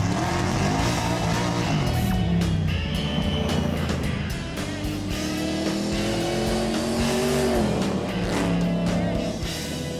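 A 1968 Chevrolet Camaro muscle car engine revving loud and close, its rumbling exhaust rising and falling in pitch through several throttle blips over ten seconds, alone without talk.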